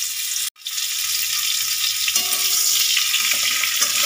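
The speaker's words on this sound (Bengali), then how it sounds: "এবার আমি ফুলকপিগুলো ভালো করে ভেজে নেব।" Cauliflower frying in oil for a potato-cauliflower fish curry, a loud steady sizzle that briefly cuts out near the start, with light stirring and faint clinks, close and without speech.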